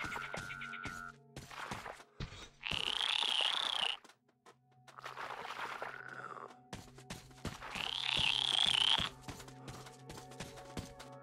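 Frogs in Metro Exodus give two loud, buzzing croaks a few seconds apart, each a harsh sustained call rising out of steady background game ambience.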